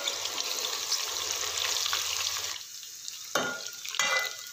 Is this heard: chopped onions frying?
yes